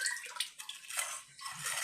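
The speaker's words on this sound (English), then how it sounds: "But I also have some bacon grease, so I'm gonna pour that in here real quick." Bacon grease poured from a container into a bowl in a home kitchen, a steady liquid trickle with brief splashy bursts, close and fairly quiet, with no talking.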